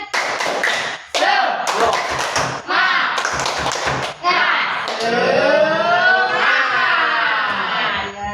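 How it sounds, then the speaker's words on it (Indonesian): Schoolchildren in an Indonesian classroom chant the tepuk semangat clapping routine, loud voices in unison punctuated by sharp rhythmic hand claps, close and lively throughout. "Coba tepuk semangat dulu."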